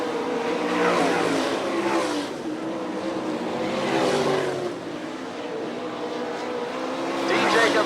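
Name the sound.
sprint race cars racing at Fremont speedway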